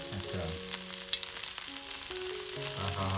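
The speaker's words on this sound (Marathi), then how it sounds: "मी इकडे गॅसवरती मांदेली फ्राय करून घेते" Rava-coated mandeli fish frying in hot oil, giving a steady close sizzle with scattered crackles and pops, while music plays underneath.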